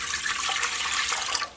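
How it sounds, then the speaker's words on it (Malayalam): Water poured into a pressure cooker, a steady splashing stream for over a second that stops abruptly, close and moderately loud with no talking. "അപ്പോൾ നമുക്ക് കുക്കറിലേക്ക് ഫസ്റ്റ് കുറച്ച് വെള്ളം ഒഴിക്കാം."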